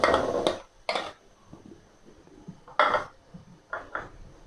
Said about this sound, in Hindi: लहसुन का पेस्ट डालेंगे